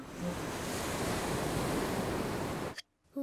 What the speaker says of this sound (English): Wow! I can hear the sea.